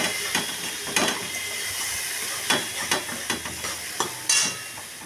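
Spice paste frying in a pan for rui bahar, a rohu fish curry, giving a continuous hiss of oil with repeated spatula strokes and scrapes at irregular intervals, close and fairly loud, no talking.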